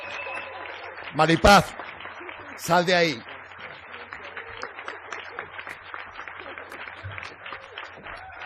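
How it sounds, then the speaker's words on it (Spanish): A plenary audience at a 2019 rural development event in Candás, Asturias, Spain applauds steadily in a steady wash of clapping, with voices speaking over it and two louder bursts of talk. "Darle un aplauso, por favor, compañeras."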